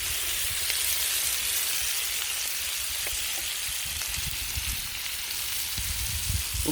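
Moroccan-style pork fingers sizzle over a campfire in a continuous, loud hiss of frying fat with scattered crackles and pops, steady throughout and without any talking.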